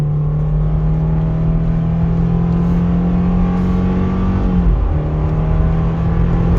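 A 2019 Subaru Legacy 2.5 with an automatic gearbox pulls away uphill from a standstill. The engine drone is loud and steady inside the cabin, with a brief dip in pitch near the end as it shifts.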